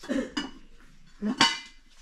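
A metal cooking pot with two handles is lifted and set down, giving a few close clanks and scrapes with a brief resonant ring.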